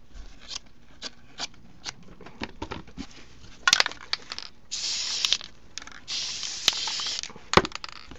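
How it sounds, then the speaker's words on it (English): Burlap fabric is folded and pressed over a pumpkin for home decor: crisp rustling and crinkling bursts, some short, some longer and louder, close by with no talking. "you're just going to have to fold it over"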